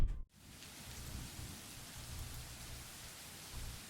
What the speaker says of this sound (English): Thunder threatens with a rumble seconds later, echoing along across the sky, and with one last roar, the skies open in earnest.